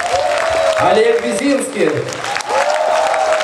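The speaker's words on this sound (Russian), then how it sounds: "Ваши аплодисменты." An audience at a stage finale applauds warmly in a steady wash of clapping, while a host speaks loudly over it, announcing names.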